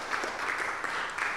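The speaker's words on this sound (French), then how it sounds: "Vous pouvez l'applaudir." Audience applause at a morning business breakfast event on construction and underground technology, a steady dense wash of clapping held throughout without talk.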